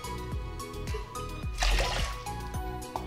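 Water is poured into a pot of washed rice, a close, continuous trickling pour with a louder splashing surge midway, then settling back to a steady stream.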